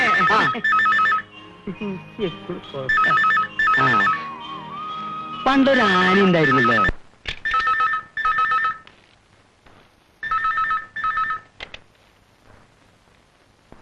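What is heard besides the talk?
telephone ringing in the other room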